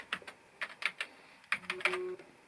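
Keys clack on the keyboard of a slot-loading Indigo iMac G3, a short burst of close, quick irregular keystrokes in two clusters with a brief pause between.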